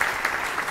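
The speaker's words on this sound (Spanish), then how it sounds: "Un aplauso." Dense, steady applause from an audience at an academic admission ceremony for Dr. Adrian Bejan, a brief close wash of many hands clapping together with no pauses.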